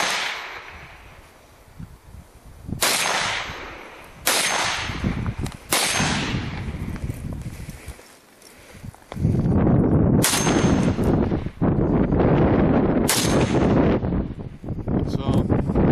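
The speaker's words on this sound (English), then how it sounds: "let's just shoot it out here again" An FN Herstal PS90 fires outdoors, sending about five or six loud, sharp gunshots at uneven intervals, each with a ringing echo and rumble between them, and a voice is heard faintly in the background.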